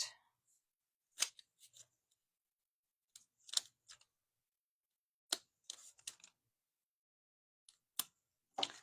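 Scissors trim paper for a 12x12 card layout in short, crisp snipping bursts separated by quiet pauses, close and clear with no talking.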